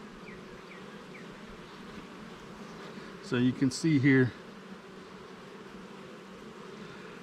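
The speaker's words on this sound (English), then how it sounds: "pretty solid frame of bees" Honeybees buzzing over a hive frame during a queen cell inspection, a steady faint hum that continues beneath a brief stretch of close speech.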